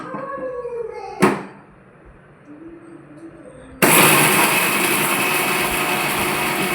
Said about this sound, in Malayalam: മിക്സിയുടെ ജാറിലേക്ക് എല്ലാം കൂടെ ഒന്ന് എടുത്ത് മിക്സി നമുക്ക് ഓൺ ചെയ്യാം.